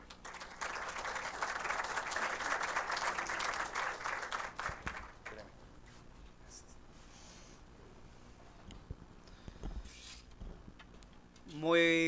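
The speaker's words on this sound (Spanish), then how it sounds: "Un fuerte aplauso para él." An audience at a workshop in an event hall applauds a speaker, a burst of clapping for about five seconds that dies down into a quiet room with faint rustling.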